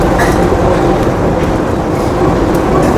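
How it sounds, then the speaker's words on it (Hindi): Interior of a driverless four-car train heading to the Kuala Lumpur airport, a loud, steady rolling rumble with broadband rushing noise and faint periodic rattles, no talking. "ये जो ट्रेन है ये ड्राइवर लेस होती है"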